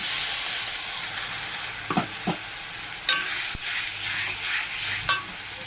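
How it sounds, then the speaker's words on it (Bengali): Onion, garlic and ginger fry in hot oil with a steady, close sizzle, while a few scraping stirs and soft utensil knocks break through the hiss. "যে পেঁয়াজ, রসুন, আদা তেলে ঢেলে দিলাম।"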